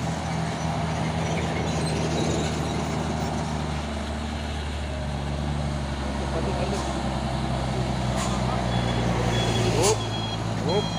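A Fuso truck on the road, its engine droning steadily up close with a few sharp higher tones near the end, under ongoing talk.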